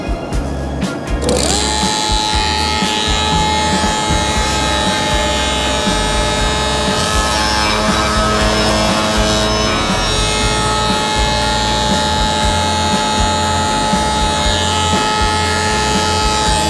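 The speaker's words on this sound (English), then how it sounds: "Get out your router table and get a router cutter put in." Router mounted in a router table cutting picture frame wood, a loud continuous high-speed motor whine with a rough grinding cut layered over it, steady throughout after a brief start.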